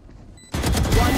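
Gunfire from the tactical shooter Valorant in a ranked match, bursting in suddenly after a quiet moment and continuing as loud, dense rapid shots for the last half of the clip.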